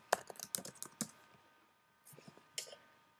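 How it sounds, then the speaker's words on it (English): Typing a web address on a computer keyboard: a quick burst of crisp key clicks, then a pause and a few more taps, close and clear with no talk. "So like if you type MacKidsOnOne.com here,"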